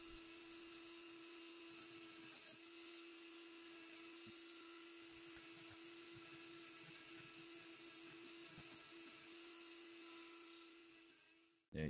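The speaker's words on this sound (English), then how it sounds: "see more or less what it takes to carve this deep into the egg using my Dremel tool and some piercing" A Dremel rotary tool with piercing bits carves into a hollowed maple wood egg, a steady high-pitched whine that holds constant for the whole stretch, close and moderately loud with no talking.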